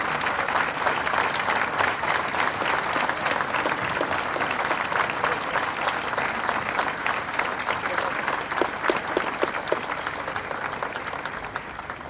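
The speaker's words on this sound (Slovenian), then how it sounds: "Vsem skupaj nagradimo s tem močnim ploskanjem." Strong, sustained applause from an audience rewards a choir at a Slovenian gathering at Hladnikov dom, dense clapping filling the hall for the whole stretch, close and loud, easing only slightly toward the end.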